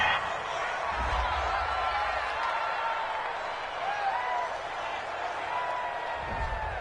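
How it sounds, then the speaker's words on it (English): Cheering from a home crowd at a football video game stadium, broadcast on PS4, as a steady roar of noise with low rumbles at the start and end, sitting under continuous commentator talk. "This home crowd, they're happy with that call."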